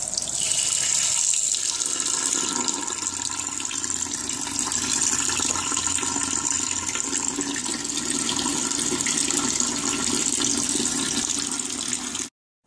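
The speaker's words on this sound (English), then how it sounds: "I'm going to fill up my glass with the high alkaline water, so I go ahead and select my 5 pH, turn on the water." High-alkaline water pours from an alkaline water ionizer tap into a drinking glass in a loud, continuous, close rush that cuts off abruptly at the very end.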